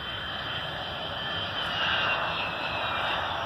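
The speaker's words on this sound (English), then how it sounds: "Now I'm waiting on an MD-88." An MD-88 jet airliner's engines give a steady, loud whine and roar, growing a little louder toward the end as the aircraft passes nearby.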